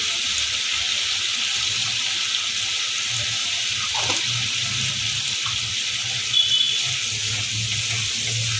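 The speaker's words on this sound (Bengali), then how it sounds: "যে পেটের মধ্যে আমি টমেটোটা ঘষেছি সেটার মধ্যে একটু জল নিয়ে আমি দিয়ে দিলাম" Water poured into a pan of frying spices and tomato for vegetarian chana masala, producing a loud, steady, even hiss that holds throughout with little change.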